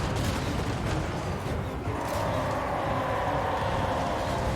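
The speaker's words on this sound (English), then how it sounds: "Just explosions all over the place." Artillery explosions in a Total War Warhammer 3 battle, Immortal Empires campaign, with a dwarf army: a dense, continuous barrage of booms and rumbling blasts that overlap without pause, loud and close.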